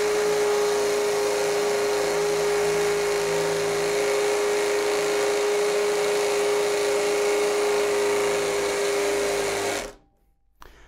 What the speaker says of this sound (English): Drilling into the brick for 10 seconds